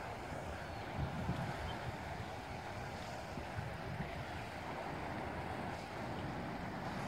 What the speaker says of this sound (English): It's a pretty good rush of water coming in.